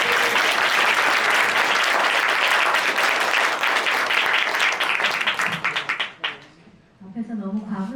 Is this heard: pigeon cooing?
no